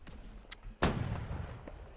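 Cannon artillery fire from the game Holdfast: Nations At War during a coastal siege, one loud boom hitting sharply and rolling away with a long low rumble, after quieter distant battle noise.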